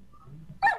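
A single short, loud dog bark near the end from an agitated dog wearing shoes, preceded by a quiet low rumble.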